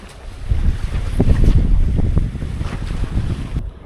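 Steady wind of about 11 knots buffets the microphone over water rushing past a sailboat's hull under sail in the Gulf of Gokova, with gusty low rumble throughout, no voices.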